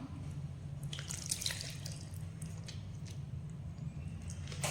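Lemon juice water poured into cooked rice for a lemon rice lunch box, a soft trickling, splashy stream with a few brighter drips, close and fairly quiet, with no talking.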